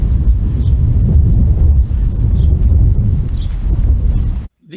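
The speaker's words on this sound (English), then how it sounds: "Wind kicks up right now." Wind gusting across a vegetable patch where parsnip seed is sown, a loud close rushing and buffeting roar on the microphone that drops out abruptly at the end.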